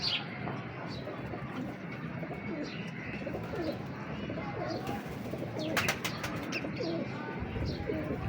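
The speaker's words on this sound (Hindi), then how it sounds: "ये मियाँ साहब के छट्टों वाले कबूतर, छट्टों वाले हैं, छट्टों वाले कबूतर हैं।" Crested pigeons coo in a steady, overlapping murmur at close range, with occasional higher chirps and a faint voice or two mixed into the continuous flock noise.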